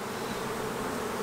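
Dense, steady buzzing of many honeybees around a hive frame, close and continuous, with no voices.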